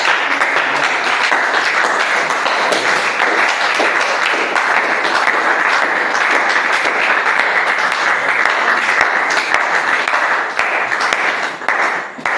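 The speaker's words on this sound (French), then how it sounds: "Acclamons le Père." Congregation applauding in a church service, a dense, steady wash of many hands clapping together, loud and sustained throughout, thinning slightly near the end.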